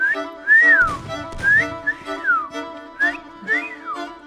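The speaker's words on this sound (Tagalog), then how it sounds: "Oh, pumipito na ako" A person whistles a series of bright, sliding pitched notes in short rising and falling phrases, loud and close with no talking, plus a brief rustle in the middle.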